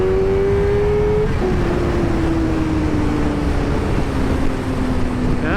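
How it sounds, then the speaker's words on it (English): A 2023 Suzuki GSX-R600 sport motorcycle pulls hard at full throttle in second gear onto a freeway, its engine note a steady loud rising whine over heavy wind rush, with a slight shift in pitch midway. "Second gear, get on the freeway, full throttle."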